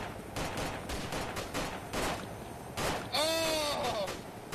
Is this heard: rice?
no